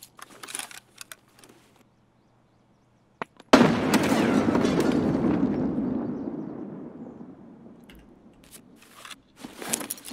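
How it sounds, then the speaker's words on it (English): A grenade goes off in Escape From Tarkov on the Shoreline map: after a near-silent pause, one sudden, loud blast rolls into a long, fading rumble, with faint clicks and small sounds before and after. "Here comes a grenade right at the corner."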